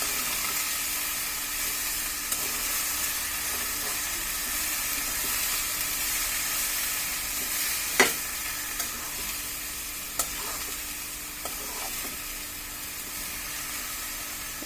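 Cabbage with garam masala powder cooks in a pan, a steady soft sizzle lasting the whole stretch. Occasional sharp scrapes and taps of a spoon stirring the pan stand out, close by, with no talking.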